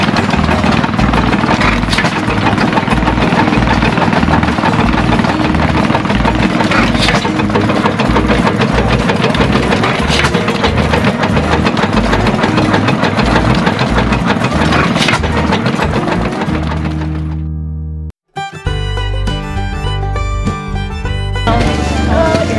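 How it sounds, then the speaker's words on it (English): An old steam engine runs at a harvest festival at the Reynolds Museum in Wetaskiwin, Alberta, with a loud, steady rhythmic working beat that continues for most of the clip and cuts off abruptly near the end. "Here's an old steamer."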